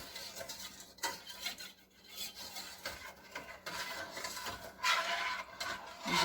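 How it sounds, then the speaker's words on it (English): Lemon pie filling stirred in a pot on a medium-high burner: soft continuous scraping and rubbing of a utensil against the pot in irregular strokes, fairly quiet and with no talking. "just get it all stirred up real good"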